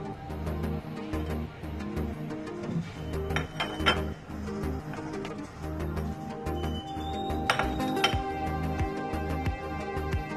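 Chaat masala spices being mixed in a bowl, with light clinks and scraping of a utensil against the dish, moderately quiet and close over a steady background hum.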